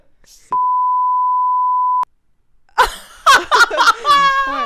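A single steady censor beep tone bleeps out a word for about a second and a half, loud and alone, followed by people talking and laughing.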